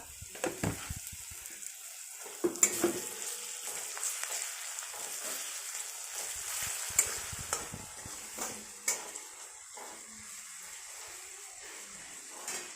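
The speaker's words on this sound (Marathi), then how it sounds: "कांदा छान असा परतून घ्यायचा" Onion stirred and frying in a pan with salt and a coriander, garlic and ginger paste: soft sizzling under repeated scraping stirs, fairly quiet and close.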